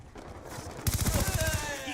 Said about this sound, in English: This MP7 extended mag is so nice.